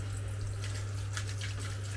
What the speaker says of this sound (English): I should normally stick cold water in the pan and let them run that way.